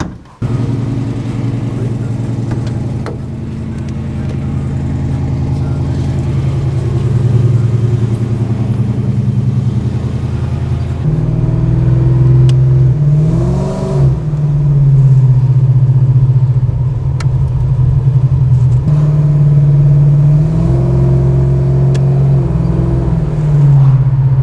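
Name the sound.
Dodge Charger restomod engine revving and driving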